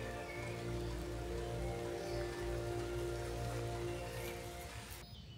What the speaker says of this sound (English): The rain is like it's here to stay